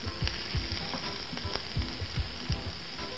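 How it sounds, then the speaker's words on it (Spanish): Chopped onion frying in hot oil, a steady quiet sizzle with small bubbling pops and a few soft knocks, no voices. "voy a colocar la cebolla."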